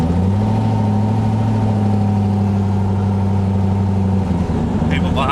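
Engine of an LS-swapped Foxbody car droning steadily while driving on a rough, potholed road, a constant loud low hum throughout with a slight change near the end.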